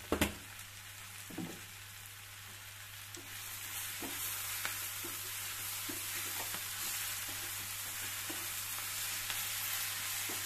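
Malabar spinach (bachali kura) frying in an uncovered pan gives a steady, close sizzle, broken by occasional scraping clicks as it is stirred to keep the bottom from burning.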